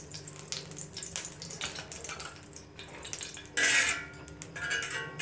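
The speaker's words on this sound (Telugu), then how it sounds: "దానిపైన మనం కొంచెము నూనె వేసేసుకుందాం" Oil goes into a heated frying pan before making an omelette, amid light clinks of utensils and pans, with a sudden loud hissing burst partway through and quieter kitchen clatter on either side.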